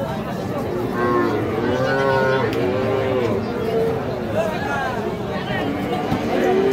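A young calf moos repeatedly at a busy cattle market, its calls rising and falling close by amid crowd chatter and people talking.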